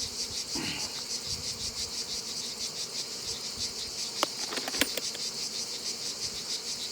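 Honey bees swarm and buzz steadily around an opened beehive during a strong nectar flow, a dense continuous drone with a couple of faint clicks from the hive parts, no voices.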